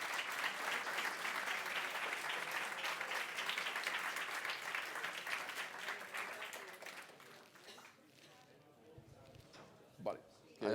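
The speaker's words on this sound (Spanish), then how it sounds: "Podéis hacer preguntas y podéis aplaudir" Audience applause breaks out at the end of a Spanish-language talk on calendars and time in software: dense, steady clapping that carries for about eight seconds, then thins and fades into quiet with a few faint stray sounds.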